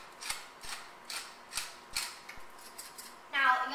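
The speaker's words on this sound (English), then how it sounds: "then we're going to put some freshly ground pepper in" A pepper mill grinding fresh black pepper into an egg mixture, giving a series of about seven soft, regular clicking twists close by, followed by a brief burst of speech.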